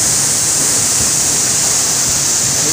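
Batu Napak waterfall in Labonu village, Basidondo, Tolitoli, a drop of roughly 20 meters, gives a steady, dense roar of falling water, close and constant, with no voices.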